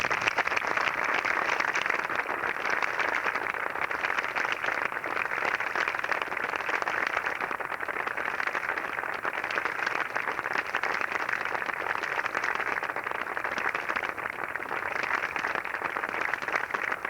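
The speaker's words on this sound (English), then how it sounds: "Would you please join us in a round of applause for these people?" A long, even round of applause rises from the audience at a military Purple Heart ceremony, steady and moderately distant, with no talk over it.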